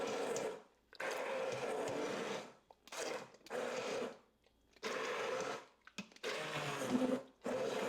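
An immersion blender whirs in several loud bursts, starting and stopping repeatedly with short pauses between runs, close up.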